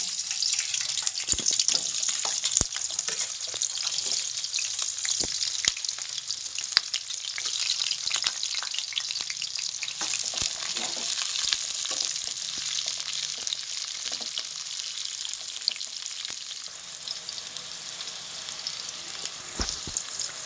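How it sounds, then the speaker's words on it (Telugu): Onions and green chillies frying in hot oil for a fish curry, a continuous bright sizzle with occasional crackles and stirring clatter throughout, close and steady. "ఆయిల్ వేగుతున్న ఉల్లిగడ్డ, పచ్చిమిర్చి"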